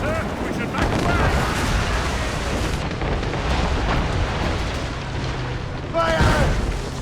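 Ship cannons firing in an Assassin's Creed Rogue naval battle, a rolling series of heavy booms and blasts, loud and close, under shouted voices.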